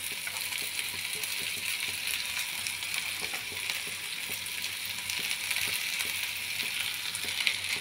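Okra (bhindi) sizzles with onions in a pan, a steady, close crackling fry with faint scrapes of stirring running throughout, no voices.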